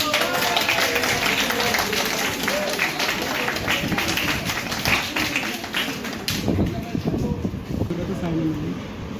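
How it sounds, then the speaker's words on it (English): An audience at a law institute debate competition applauds the winner, steady dense clapping filling the room, with voices and crowd murmur underneath. "A huge round of applause for Aman."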